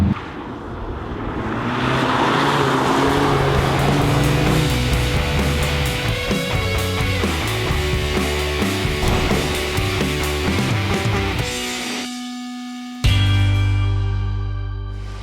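A 2018 Volkswagen GTI Mk 7 driven hard on a track, its engine loud and close as it revs and shifts through gears with brief wheel spin, a sharp drop near the end before it pulls hard again.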